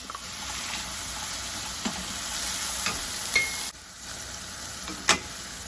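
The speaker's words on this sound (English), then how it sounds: "To our avocado oil, we're going to add our onions." Onions and tomatoes frying in avocado oil make a steady bright sizzle, with a few spatula scrapes and knocks against the pan; no one talks.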